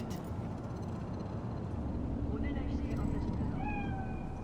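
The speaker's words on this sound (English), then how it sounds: "It's a cat like any other." A cat meows in the video game Cyberpunk 2077, a couple of faint rising calls late in the clip, heard under a steady droning game ambience.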